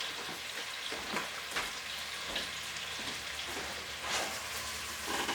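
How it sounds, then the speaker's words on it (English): Onions frying in a pan while making pumpkin soup, a constant close crackling sizzle with brief louder bursts and no voices. "You want to fry your onions a bit,"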